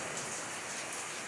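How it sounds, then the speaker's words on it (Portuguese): Heavy rain pours down steadily in a dense, continuous hiss of drops striking surfaces, close and even throughout, with no voices. "Deus nos presenteou com essa maravilhosa chuvada agora, ó."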